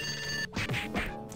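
A telephone rings in the point-and-click game Sam & Max Hit the Road, a bright electronic ring opening the moment before a few short thumping game sounds follow.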